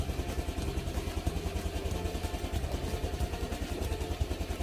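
A motorcycle engine started and kept running on a homemade battery, idling steadily close by with a fast, even putter and no talking.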